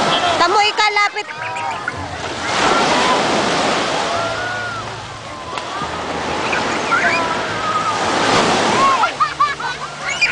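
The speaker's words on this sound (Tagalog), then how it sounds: "Paano ang alon?" Sea waves at a beach in Laiya, San Juan roll in and wash out in slow surges, loud and near, while people talk and call out over the surf.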